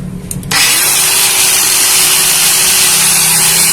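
A rewound brushless angle grinder spins up to full speed for an RPM check and holds a loud, steady high-pitched whine with a constant hum, close and alone.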